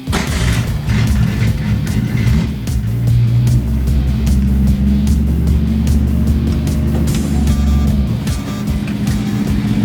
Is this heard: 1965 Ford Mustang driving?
yes